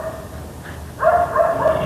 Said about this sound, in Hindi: कुत्ते भौंक रहे, कुत्तों का भौंकना देख रहे हो?